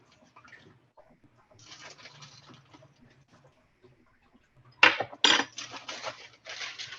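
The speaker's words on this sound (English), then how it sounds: "I'm just stirring to dissolve the sugar and the salt" Salt and sugar stirred into liquid in a bucket-style container during a Thanksgiving meal prep, with soft swishing and scraping followed by a few sharper knocks and clinks of the utensil against the sides.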